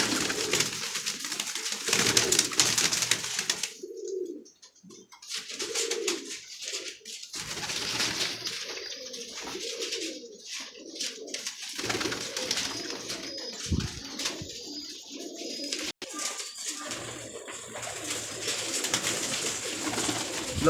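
Pigeons coo repeatedly in soft, throaty bursts, close by, over a busy mix of rustling and background chatter.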